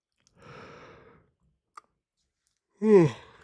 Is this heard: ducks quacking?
no